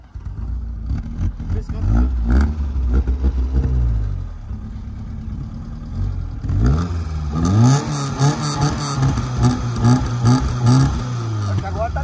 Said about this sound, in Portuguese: Acho que agora tá limpando o carburador dele.